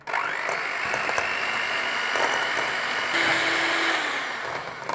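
A blender whirs steadily as it blends Boursin cheese with a tablespoon of cream, a close, continuous motor whine lasting the whole stretch with a slight shift in pitch partway through.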